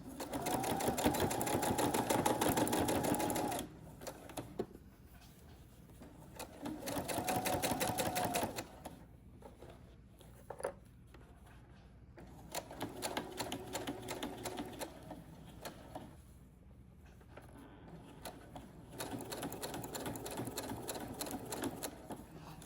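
A sewing machine stitches across a fabric drawstring bag in steady whirring runs, starting and stopping several times with short quiet gaps between bursts, close and fairly soft.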